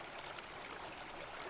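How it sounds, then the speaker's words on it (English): A river flowing, heard as a steady, dense rush of water close by, continuous and even across the whole stretch with no voices. "at that moment it seemed like the river announced itself slowly."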